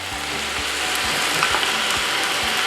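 A mix of soy sauce, seasoning sauce and oyster sauce sizzles loudly in a hot pan while squid is stir-fried, a steady bright hiss with soft rhythmic scrapes of stirring every half second, close and with no voices.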